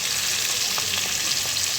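Pabda fish and cauliflower frying in hot oil in a pan for a doi pabda curry, a steady dense sizzle close up with faint crackles, no voices.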